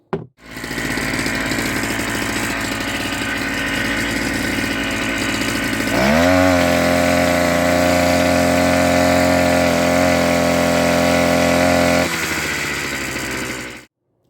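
The small two-stroke engine of a Wacker BS52Y vibratory rammer runs steadily and loud, revving higher partway through, holding a buzzing rattle, then dropping back before cutting off.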